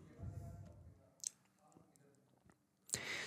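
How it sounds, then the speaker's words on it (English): A computer mouse clicks on a create button, with a couple of soft sharp clicks standing out against quiet room noise and faint mouth sounds. "Now I'm clicking on create here."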